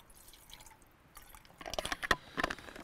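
Water is poured into a small container for a stormproof match test, starting quietly and then giving close, uneven drips and splashes with no talking.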